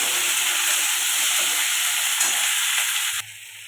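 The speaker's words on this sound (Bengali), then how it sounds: "পেঁয়াজ কলি টমেটো এটা ভালো করে কষাতে থাকবো" Spring onions and tomato sautéing with green chilli in a pan: a loud, steady, close sizzle with faint stirring textures that cuts off abruptly near the end to a softer background hiss, with no talk.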